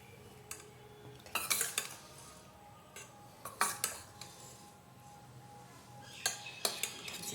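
A spoon stirring prawn curry in a pot, with a few bursts of close metal clinks and scrapes against the pot separated by quieter pauses, fairly faint overall and without speech.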